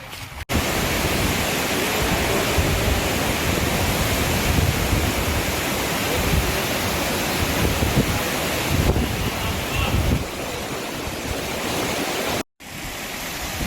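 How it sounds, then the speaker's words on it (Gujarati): Floodwater rushing across a submerged road and flooded fields in Porbandar, a loud, continuous broadband roar mixed with wind buffeting the microphone, steady throughout with a brief dropout near the end. "કેટલો પ્રભાવ પાણીનો છે"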